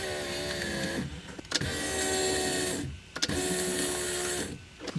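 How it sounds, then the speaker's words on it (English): The fuel pump of a 1989 Volvo 760 Turbo runs with the ignition on, a close mechanical whir that rises and falls in roughly two-second cycles with brief clicks between them. "turn the ignition on and see if the fuel pump comes on"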